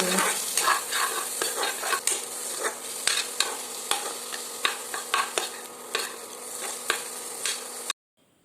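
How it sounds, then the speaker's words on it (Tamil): Chopped tomatoes sautéing in a pan for spring pasta, with a steady crackling sizzle and frequent spatula scrapes and taps stirring the mix, close and fairly loud, ending abruptly. "இப்போ போட்டு இருக்கிற தக்காளியும் சேர்த்து நல்லா வதக்கி"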